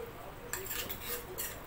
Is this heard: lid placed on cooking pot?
yes